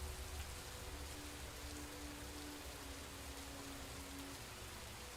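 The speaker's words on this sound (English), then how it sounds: "The rain is only where I look" Steady, even rainfall in the puzzle video game Superliminal, a loud continuous hiss of drops on surfaces with a faint low tone underneath, no voices.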